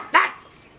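A single sharp dog bark, loud and close, a short burst that quickly fades to quiet background.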